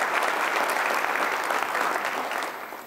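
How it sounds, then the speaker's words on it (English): An audience at a school district State of the Schools event gives a round of applause for the board of education, dense sustained clapping that fills the room and tapers slightly at the end. "If you can join me in a round of applause for all the work that they do on behalf of our district."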